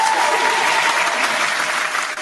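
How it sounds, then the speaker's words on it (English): An audience applauds a new LP called Happy Summer during a hip-hop mixshow: dense, continuous clapping that stays loud and steady throughout, with no voices on top. "Round of applause for Happy Summer, the new LP."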